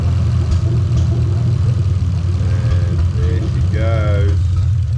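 Toyota 2JZ-GE VVT-i engine idling with its fuel pump disconnected, a steady low rumble running unbroken throughout, with faint mechanical whine and short clicks near the end.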